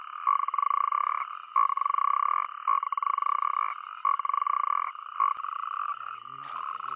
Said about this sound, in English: the natterjack toads crowd together to mate. A strong croak is a sign of tip-top health.